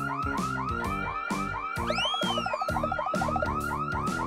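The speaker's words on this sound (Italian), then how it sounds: "Allarme?" A home alarm goes off with a loud, rapidly repeating electronic warble of rising and falling tones in a steady pattern, with no voices over it.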